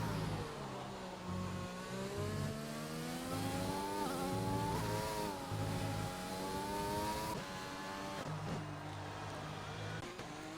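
Williams racing car engine on a flying lap in a league racing game, a loud sustained engine whine rising and falling through gear changes, continuous and close, with faint commentary underneath.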